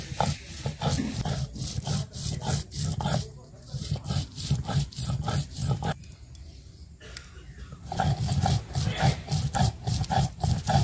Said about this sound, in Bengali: ধনে জিরে একসাথে বেটে নিচ্ছি